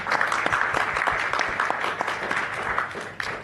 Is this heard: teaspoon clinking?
no